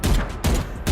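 Rapid bursts of gunfire from the video game Valorant, fired at practice targets in two quick clusters with a short gap between, loud and close.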